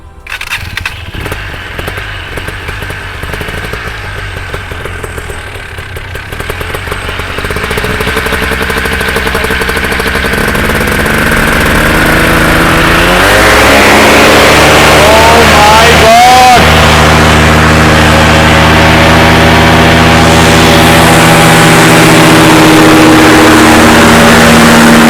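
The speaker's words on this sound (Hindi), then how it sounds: "मशीन में पावर एक बार आपको दिखाएंगे, इसको स्टार्ट करके आप गैस करना कितनी पावर होगी इसके अंदर।" A Polini Thor 250 paramotor engine coughs into life and climbs into a loud, sustained revving roar that holds steady close by.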